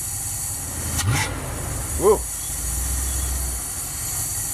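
A Mopar 318 two-barrel V8 idles with a steady, low, even rumble throughout, and a voice briefly exclaims partway through.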